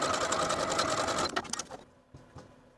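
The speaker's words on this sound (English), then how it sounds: "overlap the ends of your elastic and then zigzag back and forth to secure" A sewing machine runs in a fast, continuous whir while zigzag stitching overlapped elastic ends, then slows into a few short bursts before stopping, heard up close.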